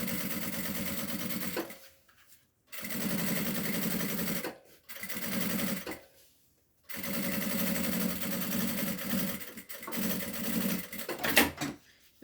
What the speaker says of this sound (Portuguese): E faço aqui uma costura de pesponto e rebater